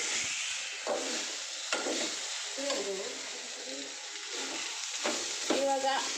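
Plantain frying in a pan gives a soft, steady sizzle, with spatula stirring and scraping at intervals and someone speaking over it.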